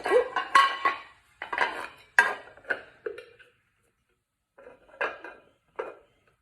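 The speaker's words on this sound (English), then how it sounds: "Wagon 1891 8-inch skillet with the lid." A vintage Wagner 1891 8-inch cast iron skillet and its lid are handled at an estate sale, giving a run of close metallic clanks and clinks in clustered bursts, then a pause and a few more knocks.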